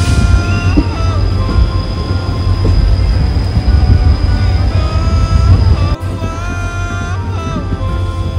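Train running slowly through the ghat section near Dudhsagar waterfall, heard from on board: loud, continuous rumble of wheels and carriages, with squealing wheel tones and a short clunk partway through.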